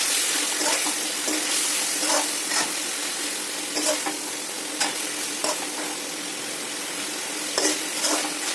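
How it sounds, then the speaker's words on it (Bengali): Cauliflower being stirred into a yogurt curry in a pan, a continuous close sizzle with repeated soft spatula scrapes and clacks against the metal, without talking. "ফুলকপিটা দিয়ে আমরা মিশিয়ে নিলাম"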